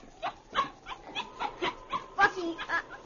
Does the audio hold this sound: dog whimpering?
yes